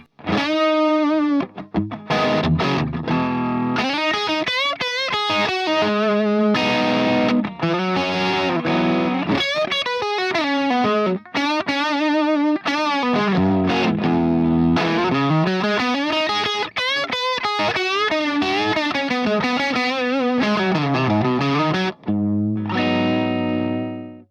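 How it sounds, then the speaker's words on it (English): A Flying V electric guitar solos with both pickups up and a vibe effect on, a loud, distorted, warbling lead of bending, sliding notes running continuously for over twenty seconds, alone. "let's turn up the volume of both pickups for a little solo sound with the vibe mode on"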